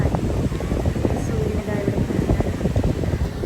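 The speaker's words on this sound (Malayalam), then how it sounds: "നല്ല കാറ്റാന്ന്. നിങ്ങൾക്ക് സൗണ്ട് കേൾക്കാൻ പറ്റുന്നുണ്ടോ അറിയില്ല." Strong wind at a beach buffeting the microphone in a continuous low roar with gusty rumble, loud and close, with a voice talking over it.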